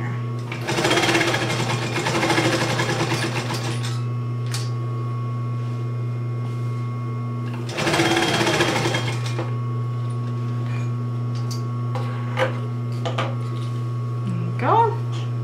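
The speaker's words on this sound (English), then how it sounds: "Do another top stitch" A sewing machine running top stitching on a clutch wallet, its fast whirring needle drive heard close in two bursts of a couple of seconds each, over a steady electrical hum with a few faint clicks between.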